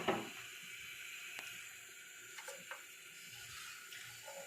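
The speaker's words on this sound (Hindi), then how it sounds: "इसमें 1 कप पानी डालती हूँ।" Water poured from a cup into homemade lassi while making kadhi pakora, a steady faint trickle and splash running throughout in a quiet kitchen with a few small clinks.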